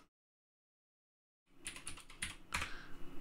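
A password being typed into a Linux Mint 21.1 terminal on a computer keyboard: a short, close burst of quick, uneven key clicks that starts after a second and a half of silence.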